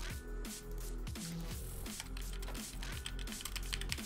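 Someone types a chat command on a computer keyboard in the osu! game client, with quick, steady key clicks running continuously at close range.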